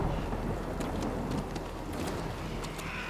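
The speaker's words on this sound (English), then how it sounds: "Here comes the rain." Rain falls steadily in the video game Death Stranding with a low rumble of thunder beneath it, a dense hiss with scattered sharper drops, moderately quiet and with no talking.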